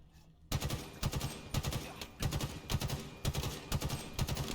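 Rapid automatic gunfire from a firefight in the video game Halo Infinite, loud bursts repeating in a steady rhythm over a continuous roar of battle noise, with no speech.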